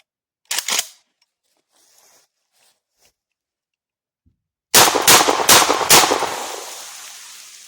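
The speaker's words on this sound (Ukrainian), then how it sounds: "спробую виконати серію пострілів" A single loud gunshot from a Safari HG-105 shotgun, then a long quiet pause, followed by a rapid burst of about four or five close, sharp shots with a ringing tail.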